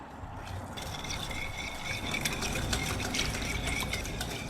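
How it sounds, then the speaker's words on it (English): Sugar and almond extract being whisked together in a bowl for a vanilla cake, a steady brisk scraping and rattling of the whisk against the bowl, close and continuous. "And of course we need some sugar. And we're gonna whisk this together."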